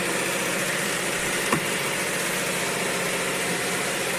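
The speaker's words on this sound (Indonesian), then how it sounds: "Maaf ya sedikit berisik karena kompresor besar hidup, dan untuk mesin ukir sebelah sana pun itu karena ada proyek pembuatan pintu." Steady, loud mechanical drone of a large air compressor running alongside a carving machine in a woodworking workshop making doors and PVC-finished furniture, constant throughout with one brief knock midway.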